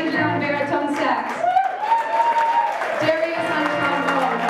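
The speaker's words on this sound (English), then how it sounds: "give a round of applause to these lovely men's energy" Audience applause at a live concert as a band is introduced, steady clapping and crowd noise beneath a speaking voice amplified over the room.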